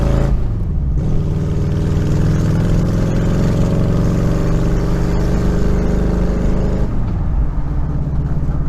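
The engine of a lifted Daihatsu Feroza drones loudly and close while driving on short corners in Bali, rising in pitch as it revs up through corners, then dropping back down near the end.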